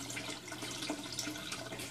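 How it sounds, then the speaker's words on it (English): Running water from an aquaponics siphon drains steadily through a fish tank setup, a continuous close gurgling rush with no talk over it. "There's the siphon starting."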